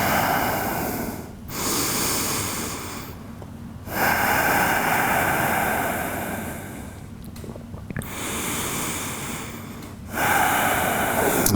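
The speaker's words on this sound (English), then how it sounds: "Take a couple of deep breaths into your kidneys." Deep yoga breaths, loud and close, come in long rhythmic cycles of slow airy inhales and exhales, separated by brief pauses, with no talking.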